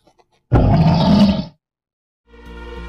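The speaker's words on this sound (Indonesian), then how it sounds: "Masha sangat terkejut mendengar raungan beruang itu." A cartoon bear lets out a loud, deep roar lasting about a second, followed by a short pause and then a burst of tonal cartoon music or sound effects.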